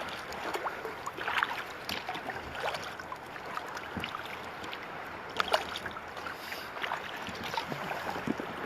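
Water laps and splashes around a kayak near the shore of an island by Juneau, Alaska, a fairly steady mid-level wash with scattered brief splashes and light wind, no voices.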